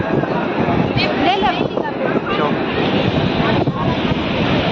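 Sea waves and gusty wind roar continuously at a seashore near Dwarka, loud and close with buffeting wind on the microphone, while a voice talks briefly over it.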